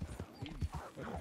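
Horse hooves clip-clop in the Red Dead Redemption 2 video game, a short, faint run of soft rhythmic steps blended with game sounds and a voice.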